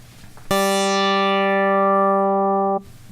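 A single polyphonic synthesizer chord of four notes, the outer notes 19 half steps apart, sounds alone. It starts abruptly, holds steady and bright for a little over two seconds, then cuts off.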